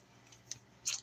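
Garden plants being trimmed with scissors: a faint snip, then a louder crisp snip near the end, close up over a quiet low hum.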